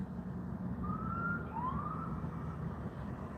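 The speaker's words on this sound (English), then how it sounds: "Yep, ambulance just have arrived." A distant ambulance siren wails in two faint rising-and-falling sweeps, heard during a morning ride over a steady low engine rumble, without anyone speaking.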